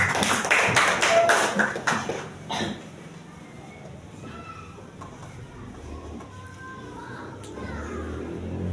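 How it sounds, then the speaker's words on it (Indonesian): A classroom audience claps for a student group in a brisk burst of applause lasting about two seconds, which then fades into quieter room noise with faint voices. "Boleh tepuk tangannya."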